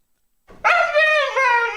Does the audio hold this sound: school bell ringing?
no